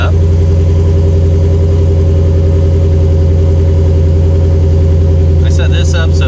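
A Ford Mustang S550 engine running at a steady, loud idle, a low even rumble filling the whole stretch, with a few brief clicks and rattles near the end.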